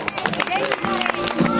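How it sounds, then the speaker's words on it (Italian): A crowd at an equestrian club's pony day applauds a diploma recipient, brief scattered clapping mixed with chatter and a voice speaking over it. "un applauso"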